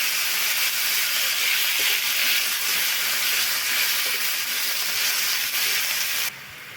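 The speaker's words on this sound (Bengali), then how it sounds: "গ্যাসের ফ্লেমটা লো ফ্লেমে রেখে আমি চিকেনটা একটু নাড়াচাড়া করে নেব।" Marinated chicken cooks in a pan over a low gas flame, giving a steady, even hiss that continues throughout and drops away abruptly near the end, with no voices.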